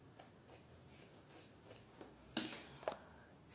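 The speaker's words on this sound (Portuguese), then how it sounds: "Ó, aqui eu também vou cortar." Scissors cut fabric pieces for a zippered pouch, a series of soft snips and slides close by, quiet at first, then a few sharper crisp cuts toward the end.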